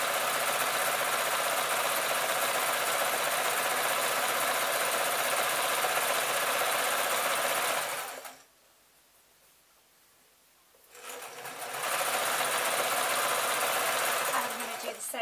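A sewing machine stitching a painted tote bag, running in a steady loud whir, stopping briefly for a few seconds of near silence, then starting up again.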